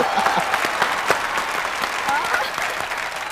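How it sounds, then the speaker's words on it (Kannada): Loud applause from a studio audience greeting both contestants on a game show, dense continuous clapping filling the whole stretch with a few sharper individual claps standing out. "ಜೋರಾಗಿ ಚಪ್ಪಾಳೆ ಇಬ್ರಿಗೂ"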